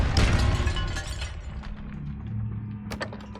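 A Depulso spell cast in Hogwarts Legacy hits with a loud burst and shattering crash, its rumble and debris trailing off over a few seconds before a sharp final crack near the end.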